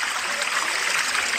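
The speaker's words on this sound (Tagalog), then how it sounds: "Running water. Galing sa bundok yan." Running water of a mountain spring stream near Busay Falls in Ligao, Albay, a steady close rushing and splashing hiss that stays even throughout.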